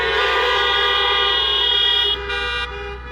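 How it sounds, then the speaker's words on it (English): Car horns from a crowd of vehicles blare together in one sustained, loud chorus of toots, thinning slightly near the end. "I think I heard mostly everybody honk their horn"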